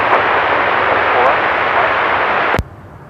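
An Alaska Airlines jet rolls for takeoff on runway 34 right at Seattle-Tacoma, a loud, steady broadband roar that holds for about two and a half seconds and then cuts off abruptly.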